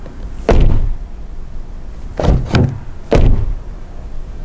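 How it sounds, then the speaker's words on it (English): Three close, solid thuds of a 2024 MG ZS EV's light car door shutting, spaced a second or so apart, each with a short rattle afterward. "Now just listen to the quality of the door."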